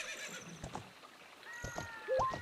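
A horse in the video game The Legend of Zelda: Ocarina of Time gives a short neigh near the end, after clip-clop hoofbeats and soft game effects.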